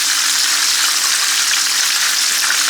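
Pollock fillets fry in a pan of hot oil with a loud, dense, steady sizzle that crackles evenly and without break from start to finish.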